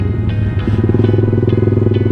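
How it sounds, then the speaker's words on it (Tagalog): Several motorcycles, including racing and big bikes, ride together in a group, their steady engine drone pulsing rhythmically close by and loud, with no talk over it. "Daming motor, bro."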